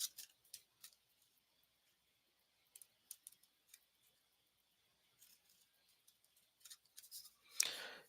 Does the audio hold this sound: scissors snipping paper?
yes